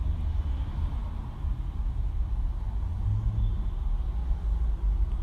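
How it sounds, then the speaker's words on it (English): Flatbed garbage truck hauling away its waste container: a steady, fairly loud low engine rumble and drone runs throughout, with no speech. "this is how a garbage truck with a flatbed hauls away its container"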